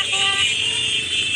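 Trucks and motorbikes rolling in a labour protest procession on a road in East Java, a loud continuous engine and traffic drone with a brief horn-like tone early on.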